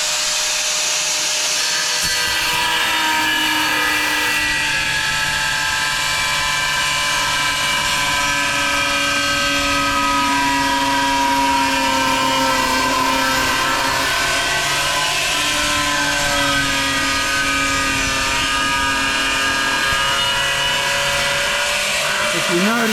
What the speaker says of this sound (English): I could have cut that or scored it on my cutter and then come out and use the grinder